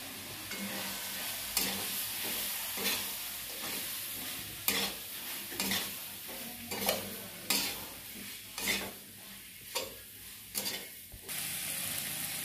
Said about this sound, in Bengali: সেই আলুগুলো দিয়ে ভালো করে একটু কষিয়ে নিই।